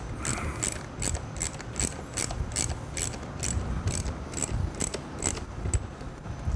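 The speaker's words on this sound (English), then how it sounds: "Using our 4mm Allen. Get that snugged up." A 4mm Allen key snugs up a screw on a Ducati Scrambler turn signal, giving a steady run of quiet, evenly spaced ratcheting clicks, close up, with no voices.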